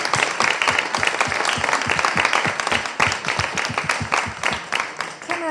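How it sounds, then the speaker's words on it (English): Applause at a women's education and innovation event, dense clapping from a room of people with distinct individual claps, loud and near, tapering slightly toward the end. "a round of applause for all of us."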